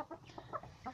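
Three-month-old Lohmann White hybrid hens cluck softly in short, overlapping bursts, close by, with no other sounds.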